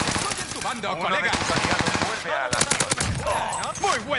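Call of Duty Warzone on PS4 Pro: rapid bursts of automatic gunfire ring out in quick succession, loud and close, with brief pauses between volleys and game voices mixed in.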